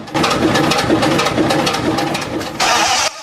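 A 500 horsepower Allen 6S37 oil engine, 375 RPM, installed in 1948 at Welch's Dam pumping station for fen drainage, runs with a loud, steady pulsing beat close by, a brief hissy burst near the end.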